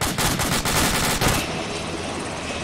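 Enemy gunfire in a video game, dense rapid automatic bursts that are loud and continuous, then shift to a steady roaring rumble, with no talking.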